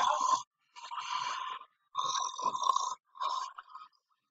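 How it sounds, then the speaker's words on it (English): A person snores in four loud rasping breaths separated by short silent pauses, close and alone with no other sound. "My god, I can hear her snoring all the way down from the block!"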